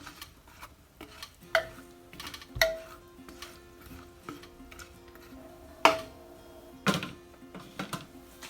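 A spoon stirs drumsticks in a metal pot for a fish curry, giving sparse scraping knocks and sharp clinks at irregular intervals, fairly close but quiet, with no voices.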